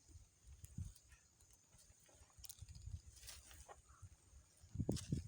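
Faint, irregular hoof thuds and heavy footsteps of a water buffalo pulling a plow through soil being prepared for planting cucumbers, with scattered low rustling sounds.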